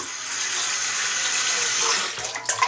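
Tap water runs steadily into a cooking pot at a sink while a slow or clogged drain is being fixed, a continuous close hiss that eases and breaks into splashes near the end.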